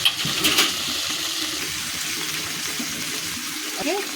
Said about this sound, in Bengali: এই গামলা ধোয়া জলটা আমি একটুখানি দেবো,